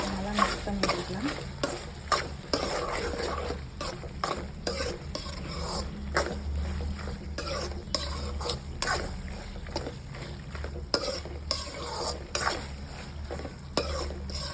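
Stirring of pumpkin pasta with oregano and pepper in a pan, a steady run of scraping, clinking stirs over a low sizzle and hum, close and moderately loud without talk.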